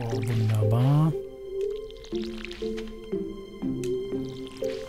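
Crops are watered in the Stardew Valley farming game. A voice speaks briefly at first, then a run of short, wet splashing squirts repeats at a steady rhythm, each one soft and close.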